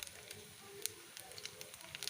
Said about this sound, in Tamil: எண்ணெய் ஊற்றிட்டேன், கடுகு போட்டு பொரியட்டும்